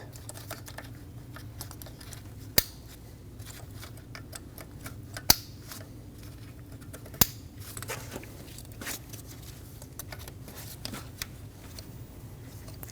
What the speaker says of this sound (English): Push until you hear a click.